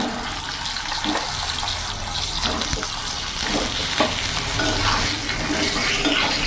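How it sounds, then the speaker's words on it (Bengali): Pointed gourd pieces fry in hot oil seasoned with salt and a little turmeric, a steady loud sizzle with scraping and clattering as they are stirred around the pan throughout. "নাড়াচাড়া দিয়ে পটলগুলো একটু ভেজে নেব"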